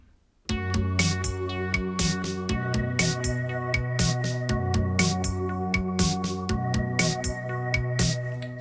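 A Roland JD-Xi synthesizer plays the full layered keyboard arrangement of a cover song, with steady drum hits and sustained synth chords and bass. The parts run together loud and continuous, with no voice.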